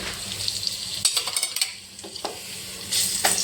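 Garlic paste fries in hot oil in a heated kadhai while making spinach bhaji, with a steady close sizzle broken by clustered metallic scraping and clinks of stirring.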